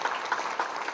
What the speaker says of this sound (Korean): 큰 박수 한번 좀 부탁을 드리겠습니다